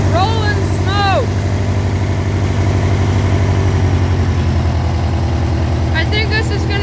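A Cub Cadet lawn tractor engine idles steadily and loud up close with a deep, pulsing throb, while whistling squeaks cut in near the start and end.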